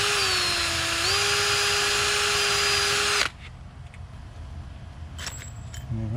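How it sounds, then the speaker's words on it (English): A power drill whines steadily for about three seconds, its pitch rising slightly as it bores a pilot screw hole into a storm door frame on a greenhouse, then cuts off abruptly, leaving faint clicks and handling noises. "And I'll pre-drill that hole."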